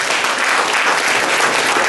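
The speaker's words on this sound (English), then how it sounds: "let's give a nice round of applause for all the Republican leaders here" An audience applauds Republican leaders, some from Staten Island, at a campaign rally for special election candidate David Storobin. The clapping is dense, steady and loud, and it runs without a break the whole time.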